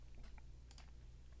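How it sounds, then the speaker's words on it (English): Faint keystrokes on a computer keyboard, a few quick soft clicks over a low steady hum in a quiet room during a call. "Just typing out an email."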